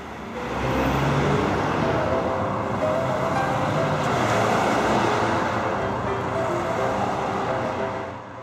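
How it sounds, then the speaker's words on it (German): Cars pass through a large city intersection in the morning, a continuous broadband roar of traffic swelling and easing gently, fairly close, with no voices over it. "Das ist eine große Kreuzung."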